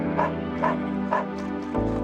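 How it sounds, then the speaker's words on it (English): A dog in a video game gives three short, evenly spaced barks over a steady hum of game background sound, close and moderately loud. "Well, what a smart-looking dog!"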